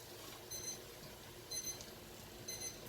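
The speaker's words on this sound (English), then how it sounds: "That's the timer for the potatoes." Kitchen timer for boiling potatoes during stovetop New England clam chowder cooking, beeping in three short faint bursts about a second apart over quiet room noise.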